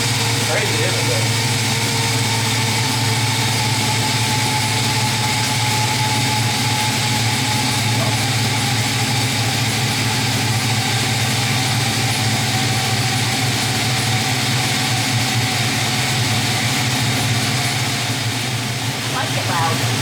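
An LS-swapped 1973 Chevy Nova fitted with a Magnaflow 15896 exhaust idles close by, its deep, even rumble steady and loud throughout.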